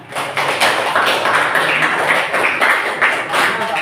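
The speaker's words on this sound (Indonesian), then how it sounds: "Oke, tepuk tangan." Classroom of students clapping together after a lesson, a steady dense patter of hand claps at close range lasting several seconds with faint voices mixed in.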